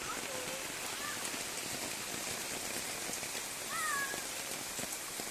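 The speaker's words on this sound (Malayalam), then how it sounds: "ശക്തമായ മഴയാണ്." Heavy monsoon rain pours down steadily near the flooding Meenachil river in Kerala, a dense, loud, unbroken hiss of water with no talking.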